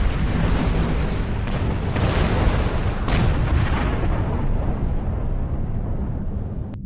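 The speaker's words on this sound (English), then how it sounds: "Torpedoes. Fire!" Torpedo volleys launching in a Star Trek Online space battle, a dense, continuous roar of booming discharges with a few sharper bursts, loud and sustained with no talking.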